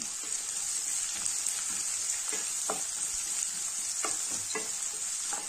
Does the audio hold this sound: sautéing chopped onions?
yes